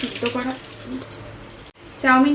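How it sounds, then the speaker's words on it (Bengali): Boiled chow mein noodles and their water are tipped into a colander in a home kitchen, a loud rushing splash and drain that runs steadily, cuts off briefly, then surges again. "সিদ্ধ করা হয়ে গেছে, তো আমি এটা ঝুড়ির মধ্যে ঢেলে ফেললাম।"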